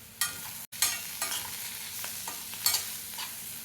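A spoon stirs egg semiya in a pan, giving a few scraping strokes over a soft, continuous sizzle close by, with no one talking.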